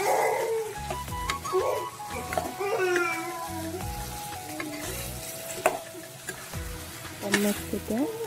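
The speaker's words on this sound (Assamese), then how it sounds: "মাছকেইটা অলপ মছলাৰ লগত ভাজি পেলাই" Dried fish fry with spices in a hot pan, giving a close, steady sizzle with scraping stir strokes, while a dog barks and faint voices sound in the background.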